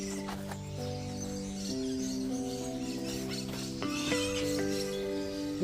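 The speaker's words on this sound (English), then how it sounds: "The birds sound so lovely." Birds sing and chirp in a backyard, a run of short repeated calls and sustained tonal notes, fairly close and clear over a quiet background.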